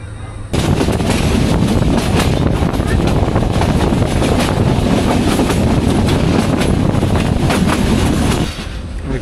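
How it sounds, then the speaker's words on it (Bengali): The Kalni Express passenger train pulls out of Balla station among tea gardens near Shaistaganj, with a loud, steady, close rumble and rhythmic wheel clatter that continues without a break and eases slightly at the end. "মানে একদম সঠিক সময়ে ট্রেন ছাড়া যাকে বলে।"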